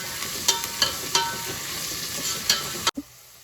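Onions and curry leaves crackle and hiss in hot oil in a pan while a spoon stirs them in several scraping strokes, close and loud, before a sudden cut to quiet.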